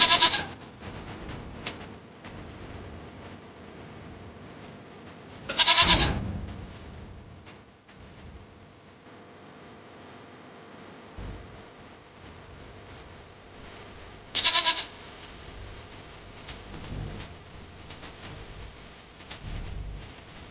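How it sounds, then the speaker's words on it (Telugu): Strong rams tied to a tree before a ram-fighting contest bleat outdoors in three loud, separate calls, spaced several seconds apart over a low background murmur. "పొట్టేళ్లు భలే బలంగా ఉన్నాయే."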